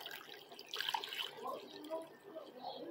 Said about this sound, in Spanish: Vamos a echarle la agüita,